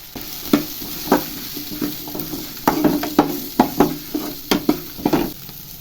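Spices for chicken sambar frying in a pan, a steady sizzle broken by repeated sharp scraping stirs with a spoon, fairly close and alone without talk.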